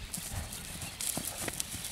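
Horse hooves clip-clop at a steady walking pace on firm ground, light and fairly near, with a gentle horse moving along; a voice talks faintly in the background.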